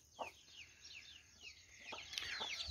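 Hens cluck softly while their small chicks cheep in quick, repeated descending peeps. The sounds are close and fairly quiet, with the chirping growing busier toward the end.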